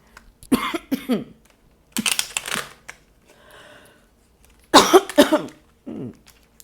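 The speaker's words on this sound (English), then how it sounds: "A dry cough." Repeated dry, hacking coughs in three separate bursts, each a rapid series of harsh expulsions, with a faint breathy pause between.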